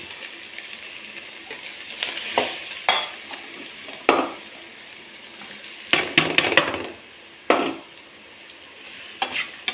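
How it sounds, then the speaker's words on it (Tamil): Grated carrot, almonds and cashews sauté in ghee with a constant soft sizzle, broken by repeated sharp scrapes and clinks of a spoon stirring against the pan, close by and with no talking. "இந்த கேரட், துருவின கேரட்டை நல்லா நெய்லேயே சிம்லேயே வச்சு வதக்கணும்."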